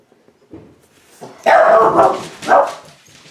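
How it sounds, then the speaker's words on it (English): A dog barks loudly twice close by, preceded by a few softer yips and whines. "Sorry about that, that was my dog."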